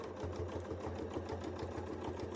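A sewing machine stitches around an oval template with a fast, even mechanical chatter of needle strokes, steady and close for a couple of seconds.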